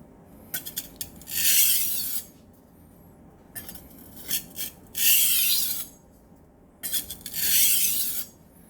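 A bolstered double-edged chef's knife is drawn across a whetstone in three separate passes, each a rough, gritty scraping stroke that rises to a loud rasp and then fades, with brief quiet gaps between passes.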